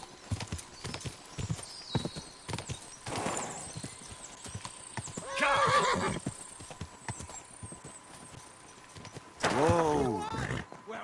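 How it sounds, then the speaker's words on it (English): A galloping horse in Kingdom Come Deliverance 2 drums its hooves in a quick, steady rhythm, up close, punctuated by two loud neighing whinnies midway and near the end. "see this horse being that fast."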